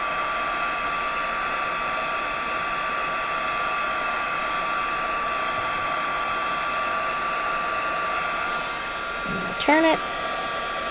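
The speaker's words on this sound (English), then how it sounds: "I like to let my heat tool run for a minute or two, or a few seconds anyway, to make sure that it's hot" A heat tool for embossing powder on cardstock runs steadily as a constant whirring hum, with a brief knock near the end.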